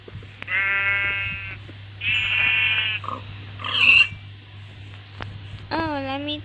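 Sheep bleat in the Minecraft video game, with several distinct wavering cries spaced apart over a constant low hum, plus a few softer clicks between them.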